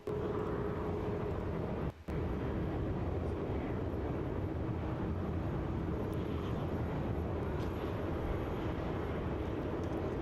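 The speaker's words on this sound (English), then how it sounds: "we have the Xiamen 7879 coming in from Xiamen. It's touching down as MF 803." Xiamen Airlines Boeing 787-9 touching down at Melbourne Airport, a steady distant jet roar with a low rumble, continuous and unbroken apart from one brief dip.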